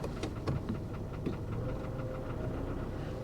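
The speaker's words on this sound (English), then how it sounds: "You hear that knock?" A GMC Envoy XUV engine idles with a steady rumble, overlaid by a faint repeating knock that taps at irregular intervals throughout, with no talking.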